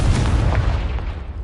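A Confringo blasting spell going off in Hogwarts Legacy, a loud, close, rumbling explosion boom that fills the moment with low, sustained roar and no voices.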